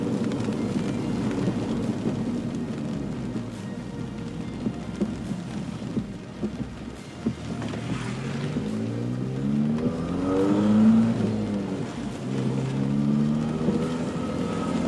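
A turbocharged Ford Fiesta engine revs in a garage, with a rising whoosh as the large hybrid turbo spools up between the steady mechanical drone, loud and close.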